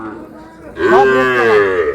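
A Sahiwal bull calf gives a loud, close, drawn-out moo at a busy cattle market, rising after a short stretch of murmuring crowd noise.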